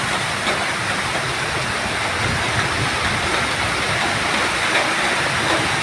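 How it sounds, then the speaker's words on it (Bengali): A downpour of heavy rain keeps up a constant, even hiss and rumble, loud and unbroken throughout, with no one speaking. "এর জন্য আমার রেসিপিতেও বৃষ্টির আওয়াজ"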